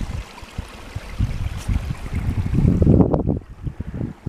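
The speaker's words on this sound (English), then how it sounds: "So you can hear the water, but you can't see the water." Hidden stream running somewhere beneath collapsed rocks on a hillside walk at High Cup Nick, a steady rushing wash that swells louder toward the middle, mixed with wind buffeting the microphone, no voices.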